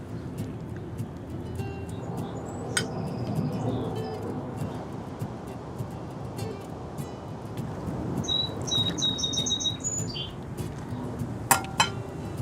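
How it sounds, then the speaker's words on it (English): Little birds sing in a garden among flowers and a trestle, giving sparse, high, bright chirps and a short trilling phrase over a quiet background of kitchen clinks. "You hear my little bird?"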